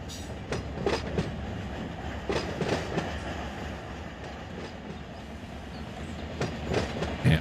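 A freight train carrying auto racks rolls past in the Run 8 train simulator game, steady rumbling with rhythmic clickety-clack of wheels over rail joints, fairly close and continuous.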